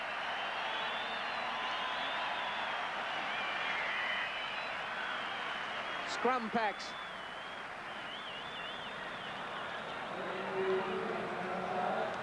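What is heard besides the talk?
stadium crowd applause for departing rugby league player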